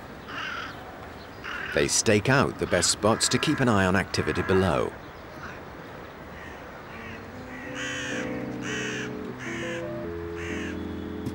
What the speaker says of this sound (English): The botanical gardens in Paris attract several dozen crows because it's a good place for a free picnic.